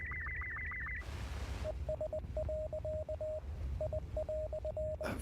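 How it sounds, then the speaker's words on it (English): Radio station noise in the game Hell Is Us: a warbling tone, then a burst of loud static, then clipped, evenly pitched beeps in irregular Morse-like groups over a low rumbling bed, ending in another static burst. "That's a good noise. I like that radio station."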